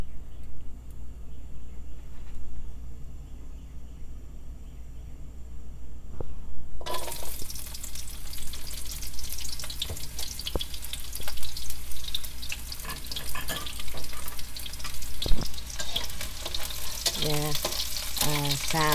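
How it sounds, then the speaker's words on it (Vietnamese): Sliced shallot rings frying in hot oil, a steady broadband sizzle that jumps suddenly louder partway through and keeps crackling close up, with occasional clinks from stirring and no talk. "Xào cho nó thơm các bạn, chừng nào nó vàng nó thơm lên rồi mới bỏ mấy thứ khác vô."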